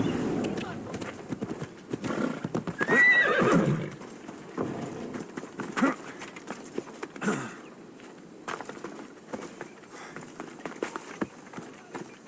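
A horse in the video game Assassin's Creed Odyssey gallops with rapid clip-clopping hooves and lets out a loud whinny near the start, while a voice shouts over the running.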